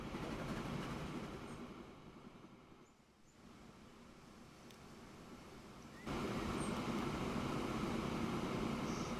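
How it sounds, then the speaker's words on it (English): A steady rumbling roar of a train running along the rails in the video game Transport Fever 2, continuous and dense, dipping briefly then growing louder and fuller toward the end. "follow this train until it reaches the end of its line"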